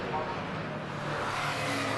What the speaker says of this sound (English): So through goes the number 2 car, Tom Bradshaw.